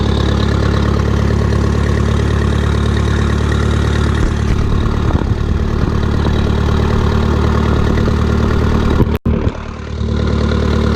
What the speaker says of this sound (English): So slowly let off the clutch and we'll start to move forward.